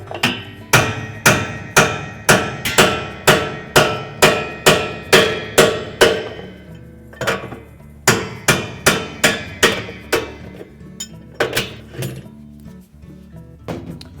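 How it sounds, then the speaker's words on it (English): A heavy short-handled hammer hits a Whirlpool washer tub nut again and again, loud and close. Sharp metallic blows fall in an even rhythm, pause briefly midway, then resume in shorter, quicker bursts. "Take our heavy hammer."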